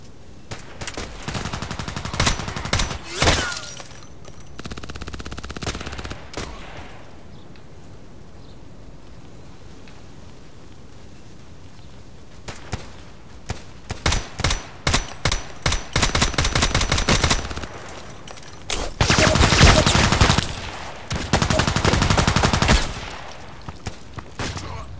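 Sig Sauer MPX and machine gun fire in the shooter game Contract Wars, on the Parkside map, rattle out in loud repeated bursts separated by quieter stretches, with longer sustained volleys toward the end.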